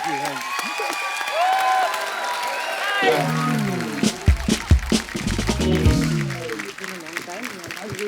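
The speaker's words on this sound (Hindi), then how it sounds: "अनन्या, धैर्य और सिद्धांत चतुर्वेदी के लिए जोरदार तालियां" On the set of The Kapil Sharma Show, a studio audience claps and cheers after a stretch of music and voices, the applause swelling into loud bursts midway and then tapering off under continued talk.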